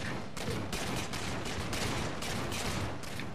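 Rapid gunfire in Halo 4 multiplayer, a dense run of loud, closely spaced blasts that keeps going without pause.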